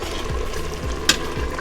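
A spoon stirring cooked collard greens with smoked turkey and seasoned salt in a pot, giving a few soft, wet scraping strokes over a low simmer, with one brief sharper clink near the end.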